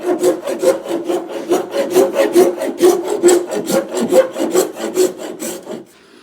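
A hand saw cuts a kerf into a wooden axe handle with about a dozen rhythmic back-and-forth strokes, rasping and close, before stopping abruptly near the end.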